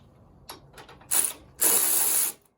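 Ratchet wrench clicking while nuts are tightened during valve adjustment on a Kawasaki FX/FR/FS engine on a Scag mower: a few short, close ratcheting bursts, then a longer steady run of clicks at the end.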